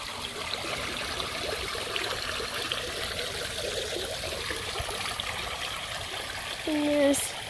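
Water fountain in an outdoor garden water feature trickles steadily, a soft continuous splashing stream that runs throughout, with a brief louder sound near the end.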